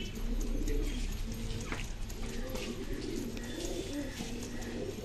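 Pigeons coo in a loft of young birds whose wings are still growing in, a steady murmur of low calls running through the whole stretch with a faint voice in the background.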